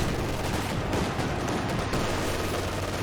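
Continuous dense rumble of 25 pounder artillery fire in the Company of Heroes 2 battle game, steady and loud throughout with overlapping blasts and no clear pauses.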